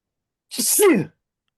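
A single short sneeze bursts out indoors during a tabletop role-playing game session, brief and close.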